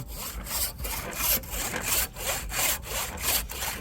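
Handsaw cutting through wood for firewood, rhythmic back-and-forth rasping strokes at a steady pace, close and loud with no talking.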